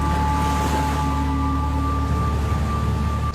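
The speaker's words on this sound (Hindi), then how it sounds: "जब सागर का पानी प्रवेश करता है यहाँ पर तो सीधे गर्भगृह में पहले आता है" Sea water surges into the Stambheshwar Mahadev temple at Kavi Kamboi, Gujarat, a loud, continuous wash of rushing water that stays steady and dense throughout, with no voices.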